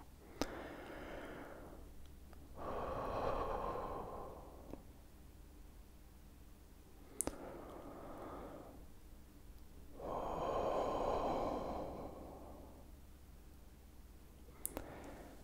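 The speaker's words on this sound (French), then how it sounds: "Buvez de l'eau et respirez un grand coup" Deep, slow breaths alone in a quiet room: two long, full inhales or exhales swell up around the third and eleventh seconds, with softer breaths between and a few sharp clicks near the mic.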